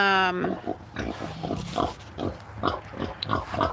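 Low, rough pig grunts repeat in short bursts, close by, following a brief tonal squeal at the start.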